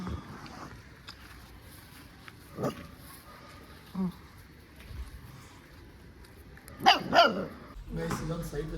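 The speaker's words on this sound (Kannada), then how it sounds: "ಇಲ್ಲಿ ನೋಡಿ ಎಷ್ಟು ನಾಯಿ ಮರಿಗಳು." A litter of puppies gives a few scattered short barks and yelps at close range, with louder bursts toward the end, amid background voices.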